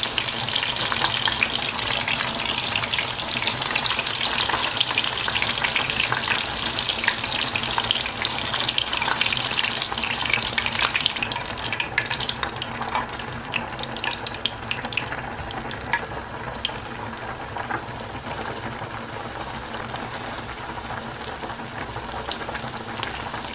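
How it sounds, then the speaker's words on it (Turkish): Spiced chicken calamari fries in a pan with a dense, continuous sizzle up close, loud at first and easing slightly over time, with no talk. "yavaştan kızartmaya başlıyorum"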